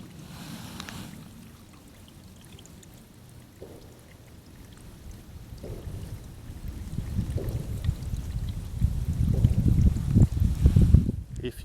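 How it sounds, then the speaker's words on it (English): Water runs down a little woodland path on a winter walk, a soft trickling wash that swells louder toward the end, with rustling and footsteps close by. "Look at that water flowing down."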